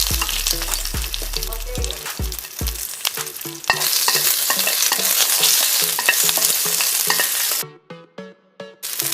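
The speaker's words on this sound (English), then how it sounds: "Put in about 2 tablespoons of oil, garlic and the ginger." Garlic and ginger fry in about two tablespoons of hot oil in a wok, giving a loud, steady sizzle stirred with scraping strokes, opening with a few heavy clunks and ending in short bursts.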